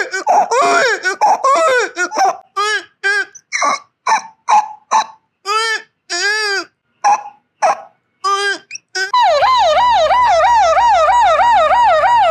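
A beatboxer vocally imitates a string of sounds such as animals, a crying baby and a DJ in short, loud, separated bursts, then closes with a continuous rising and falling wailing siren like an ambulance, all made with the voice.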